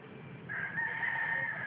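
A rooster crows once, a single drawn-out call, fairly faint and somewhat distant over low background rumble.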